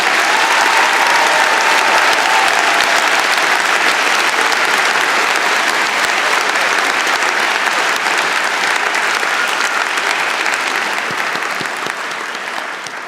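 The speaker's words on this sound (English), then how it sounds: "if you could give a round of applause for those people" A large crowd at a spring university convocation gives a loud, unbroken round of applause for the graduating class, a steady wash of clapping that holds for the whole stretch and eases slightly at the very end.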